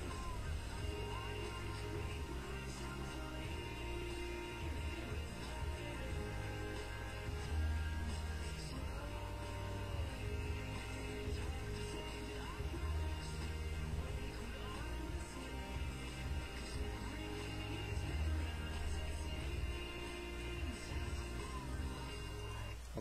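Guitar playing the chorus of a song, strummed steadily and continuously at moderate volume, with rhythmic chord changes throughout and no talking.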